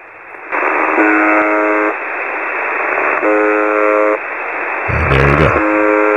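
The Buzzer shortwave station on 4625 kHz, received through an SDR receiver in the Netherlands, sounds as a loud, harsh buzzing tone in repeated long bursts over static, with a brief rising burst of interference near the end.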